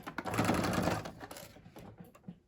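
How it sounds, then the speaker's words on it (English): A sewing machine stitches across fabric for a face mask, a fast close whirring burst that runs steadily for about a second, then breaks into short stuttering stitches and pauses. "Remember to keep your needle down before you lift the presser foot. And sew across."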